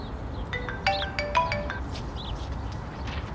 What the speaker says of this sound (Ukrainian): наступного дня Кирилу несподівано подзвонила Марія